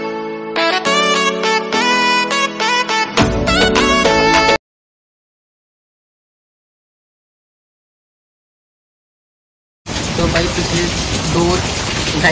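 Heavy rain pouring down in a residential lane in Jammu during a downpour, a loud dense wash that breaks off into silence for several seconds and then returns just as strong.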